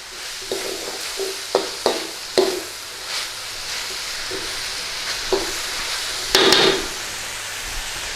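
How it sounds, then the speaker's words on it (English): Beef and green peppers being stirred in a hot pan for a Thai-style stir fry. A steady sizzle is broken by a series of sharp spatula knocks and scrapes against the pan, with no talking. "in with our green peppers. Give that a stir around."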